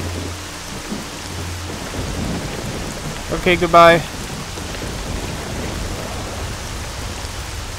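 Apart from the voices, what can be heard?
rain and thunder in video game STALKER Shadow of Chernobyl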